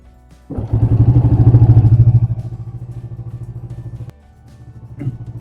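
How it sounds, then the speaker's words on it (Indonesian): A fuel-injected motorcycle engine cranks and fires into a loud, close, throbbing rev, then settles into a steady pulsing idle, briefly dropping and picking up again near the end. "Kita coba nyalakan sepeda motornya aja."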